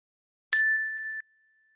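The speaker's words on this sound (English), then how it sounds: "And I'll ring the bell again." A single bell rung during a guided meditation gives one clear bright strike and a short ringing tone that cuts off quickly, followed by quiet.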